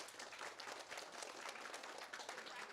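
Fifth-grade graduates at a moving-up ceremony practise a round of applause, a dense, steady burst of many hands clapping at once, fairly faint and without speech.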